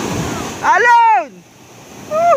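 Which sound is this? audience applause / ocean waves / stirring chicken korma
ocean waves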